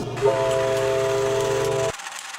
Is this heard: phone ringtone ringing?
no